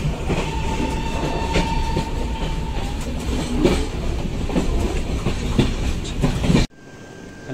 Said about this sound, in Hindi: यही है सहरसा जंक्शन और जनित एक्सप्रेस ट्रेन लगा हुआ है यहाँ पे